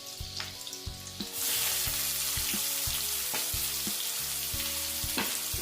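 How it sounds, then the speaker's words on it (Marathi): Finely chopped onion drops into a hot pan with garlic, bursting into a loud, steady sizzle after a second of quieter crackle, with light scraping and stirring knocks recurring throughout. "आणि आता यामध्ये कांदा घालूया बारीक चिरलेला।"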